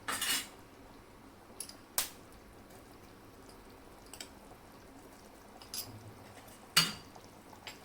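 A spoon scrapes and clinks against a metal pot of curry a few times, with soft wet stirring sounds in between, fairly quiet and unhurried.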